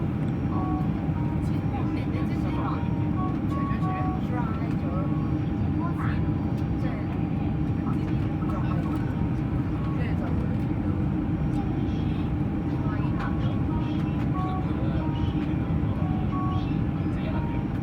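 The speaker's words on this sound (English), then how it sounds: "Now enjoy the approach and landing into Taiwan Taoyuan International Airport." Inside the cabin of a China Airlines Boeing 747 on approach and landing at Taiwan Taoyuan International Airport, a steady loud engine and airflow roar drones throughout, with faint chimes and clicks above it.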